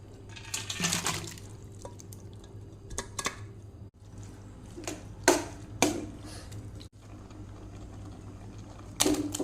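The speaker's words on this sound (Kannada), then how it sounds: "ಇದನ್ನು ಬೇರೆ ಪಾತ್ರೆಗೆ ಟ್ರಾನ್ಸ್ಫರ್ ಮಾಡ್ತೇನೆ." Boiled Malabar spinach and horse gram is moved into another pot with wet scooping and scraping, scattered clinks and a few sharper knocks over a steady low kitchen hum; no one talks.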